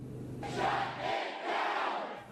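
A large crowd of protesters shouting and chanting outside the state Capitol in Lansing, rising and falling in loud waves of massed voices.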